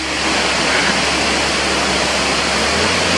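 Banyu Wana Amertha waterfall roars as a loud, dense, unbroken wash of falling water, very close and steady throughout.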